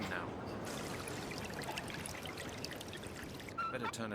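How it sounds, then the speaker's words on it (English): Water gushes from a drain in the Mystery of the Druids game, a steady pouring, trickling stream heard at low level with a brief voice near the end. "It works! The water's flowing now."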